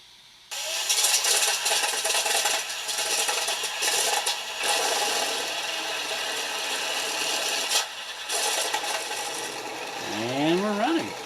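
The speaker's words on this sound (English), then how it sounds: "Here's the on button." Heng Long 1/16 scale M26 Pershing RC tank powering up, a loud continuous mechanical grinding and whirring that kicks in abruptly and runs steadily, ending with rising electronic motor whines.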